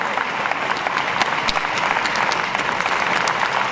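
At a united-left municipal campaign meeting in Brest, a large audience keeps up continuous, close, full-bodied clapping, with scattered sharper claps in an even roar and no speech above it.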